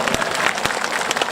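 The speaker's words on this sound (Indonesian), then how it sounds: "Tepuk tangan dulu buat kita semuanya." An audience at an Islamic religious gathering in Jakarta breaks into brief, dense applause, many hands clapping together in a loud, steady wash.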